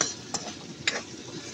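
A utensil stirs sardines with alugbati and red pepper in a pan, giving a few sharp scraping clinks over a soft sizzle, close up and without talk.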